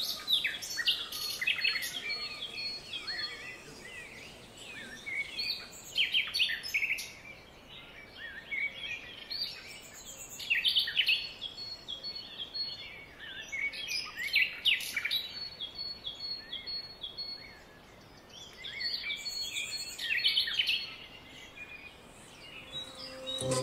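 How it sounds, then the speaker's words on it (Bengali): Birds in a mountain village chirp and sing in busy overlapping bursts of high, bright calls, with a soft insect hum underneath and no talk. "আপনারা শুনতে পাচ্ছেন কিনা পাখির আওয়াজ?"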